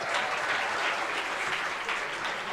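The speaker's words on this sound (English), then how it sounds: "Let's clap for them." Dense, steady applause from a festival audience for a design team, a continuous wash of many hands clapping at close range with no talking over it.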